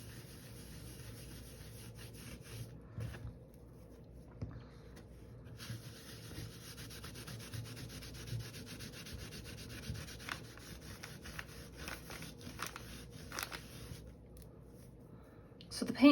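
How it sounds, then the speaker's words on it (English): A wet wipe rubbed steadily over a painted mandala surface catches on rough patches, giving a soft continuous scrubbing and rasping close by, quiet and without talking. "The wet wipe is just getting a little caught on some of those rough patches"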